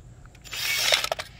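A power drill spins a drill bit through a big 7/8 socket joined by two adapters, giving a brief whirring burst with rattly clicks that rises after a quiet start and stutters near the end.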